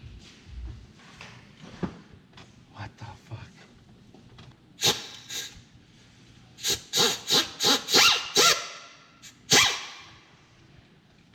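Old gasket being scraped off a Small Block Chevy V8 engine block for a water pump on a 1988 Pontiac Firebird, a series of sharp, close scrapes in irregular bursts, clustering rapidly toward the end.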